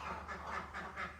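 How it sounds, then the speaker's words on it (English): Ducks quacking insistently indoors near a tiny camper build, a rapid series of nasal quacks in a rhythmic run, close and moderately loud. "the ducks want to go outside"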